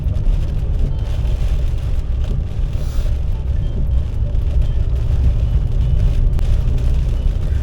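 A car drives along during a UK driving test in the rain, giving a steady low rumble of engine and road noise from inside the cabin with no talking.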